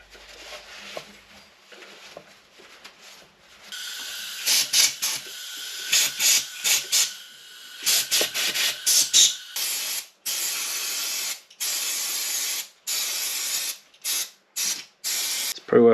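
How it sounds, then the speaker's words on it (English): Short hissing bursts from a spray can coat a Partner 370 petrol two-stroke chainsaw, close and loud, coming in a series of pulses of a second or so each with brief pauses between them. "just going to give this a quick spray down."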